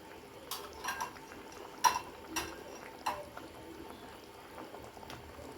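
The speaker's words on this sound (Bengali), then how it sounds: "ঝোলটা ফুটে গেছে, ঝোলটা আর 5 মিনিট ফুটিয়ে নেব" Bhetki fish curry gravy bubbles in a pot with a soft, low simmering hiss, broken by several sharp clinks and knocks of utensils against the pot; no voices.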